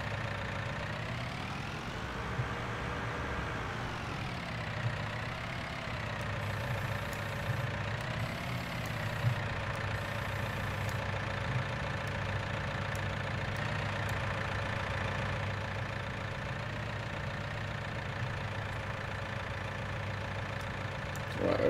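Tractor engine idling in the Farming Simulator 19 video game, a steady, continuous mid-to-low engine drone with slight pitch wavering, constant and fairly loud throughout with no talking.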